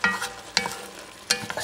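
Jambalaya ingredients with tomatoes and smoked paprika get stirred in a pot, three quick scraping strokes of a spoon over a light sizzle, close and alone.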